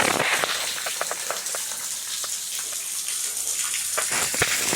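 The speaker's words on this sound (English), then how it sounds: "And here's a waterfall here that I've never seen before." A waterfall on a rock ledge in Giant City State Park, Makanda, Illinois, gives a steady broadband rushing spatter with scattered droplet splashes, fairly close and continuous, with no talk.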